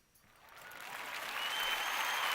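An audience applauding slowly, the clapping starting faint and building steadily louder into a sustained wash of hands over a couple of seconds, with no talk over it.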